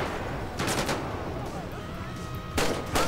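Gunfire in GTA V gameplay, a couple of sharp bursts over a constant background of game noise and music, fairly loud and close, with a voice talking briefly.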